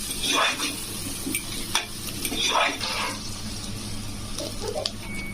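Ginger and turmeric being stirred in a hot cooking pan for an ivy gourd curry, with a low sizzle under scraping strokes that come in several bursts, plus a few light clinks of the spoon.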